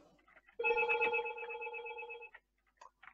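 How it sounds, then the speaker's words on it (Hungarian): A landline telephone rings inside an apartment: a single sustained electronic ring burst lasting nearly two seconds, fairly quiet, with soft indoor noises before and after. "Most itt megszólalt a telefon a lakásba, ezen nem tudok segíteni, mert ez a vonalas telefon."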